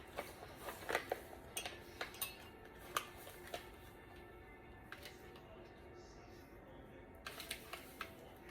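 A spoon clinks and taps against a bowl while yeast and sugar are stirred into milk for Italian Easter bread, a scattered series of light, close clicks over a quiet room.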